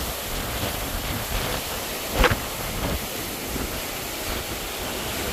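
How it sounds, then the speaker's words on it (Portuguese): Rain falling outdoors on Ilha do Mel, a steady broad hiss throughout with one short louder thump partway through. "já tá chovendo, ó"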